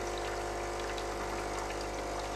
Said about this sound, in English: after the reset 44 seconds drain water from the group head